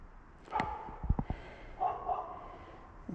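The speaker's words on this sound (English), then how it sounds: "Somebody's dog out there." A dog barks outside in the woods, a quick cluster of sharp barks followed by a few softer whining yips, heard at a moderate distance with no talking.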